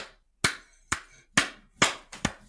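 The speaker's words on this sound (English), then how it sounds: "I just felt like clapping" Hands clap five times, sharp and close, in a loose, slightly uneven rhythm after a short quiet pause, with each clap ringing briefly and no speech over them.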